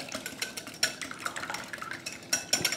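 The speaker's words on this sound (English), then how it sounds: "Whisk." Eggs are whisked in a bowl, a quick run of light metallic clicks and scrapes from the whisk against the bowl, close and moderately loud, with no talk.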